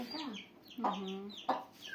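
Newly bought chickens cluck quietly at close range, a few short soft clucks spread across the moment with faint background noise.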